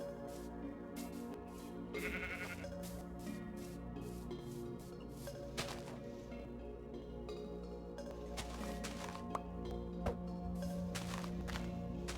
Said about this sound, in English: It's a gray sheep.